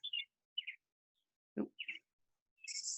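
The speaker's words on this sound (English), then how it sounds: "A birdie." Short bird chirps and tweets come in a few separate bursts, with a brief low thump partway through and a longer, higher call at the end. The calls are faint and fairly close, and no one speaks.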